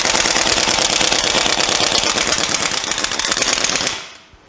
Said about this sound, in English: 3/4, yeah, 3/4 inch impact gun.